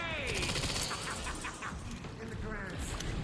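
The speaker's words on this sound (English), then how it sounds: "We're out of reach, so just keep shooting" Rapid gunfire in Resident Evil 9, dense loud bursts of shots layered over game music and effects, continuous across the whole stretch.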